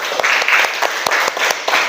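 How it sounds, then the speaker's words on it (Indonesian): A classroom of students claps for classmates, a short burst of close, lively hand clapping with a few sharp individual claps standing out, lasting about two seconds. "Ayo beri tepuk tangan untuk Mas Janu"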